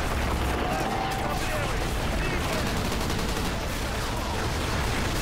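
Dense, continuous gunfire and explosions from the Call of Duty: Ghosts video game fill the whole stretch, loud and chaotic with rapid overlapping shots.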